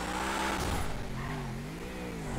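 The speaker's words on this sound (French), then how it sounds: "Franchement le gros moteur, vous entendez déjà bien le turbo." Turbocharged car engine revving in the video game GTA 5, a loud, steady mid-pitched drone that rises and dips slightly, heard alone and close.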